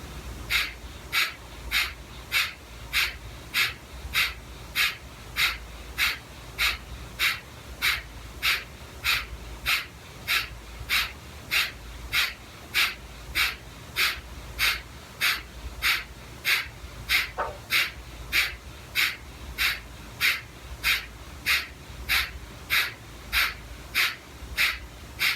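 Rhythmic, forceful Kapalbhati yoga breathing: about two dozen sharp nasal exhales in a steady, even pulse, close and clear, with no talking.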